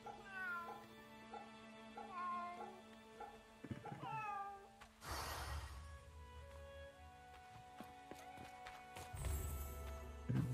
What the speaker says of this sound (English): My first pet kitty.